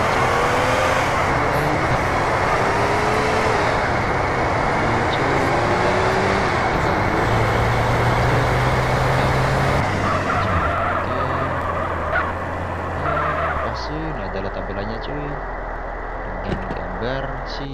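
Engine drone and road rumble of the Merit car driving in the Japanese-modded GTA San Andreas game, a steady, loud in-game hum whose tone shifts partway through, running under a talking voice.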